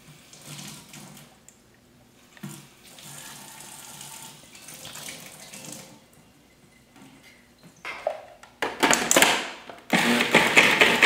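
Water is poured into a blender of greens, with soft low handling and splashing, then louder bursts of rushing water near the end.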